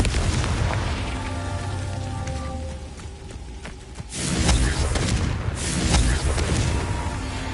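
A Confringo blasting spell explodes in a Harry Potter video game: a loud, deep boom bursts out partway through, breaking a steady rumbling din of battle effects and leaving a crackling, rolling blast that lingers.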